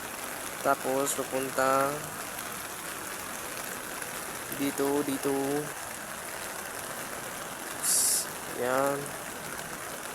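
Typhoon floodwater pours down from higher ground at Binga Dam in Itogon, Benguet, a steady, close broadband rush that never lets up, while someone talks over it in short bursts.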